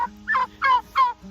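Three loud, close gobbles come from a big farm tom turkey puffed up in display, each a quick warbling burst with short pauses between them and no talking.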